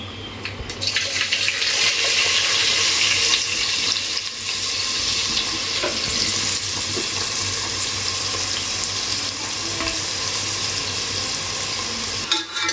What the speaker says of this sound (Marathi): तेल चांगलं तापलं आहे आता मी जिरं मोहरी घालते बारीक चिरलेला कांदा